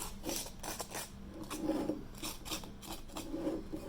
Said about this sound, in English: you're going to just give it a light sanding